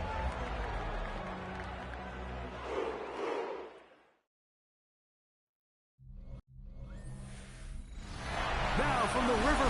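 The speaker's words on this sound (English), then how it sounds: "sellout crowd has arrived at Paycor Stadium in Cincinnati" A sellout stadium crowd at Paycor Stadium in Cincinnati for a Browns–Bengals football game, a broad roar and applause that fades to near silence, then swells back loud and dense.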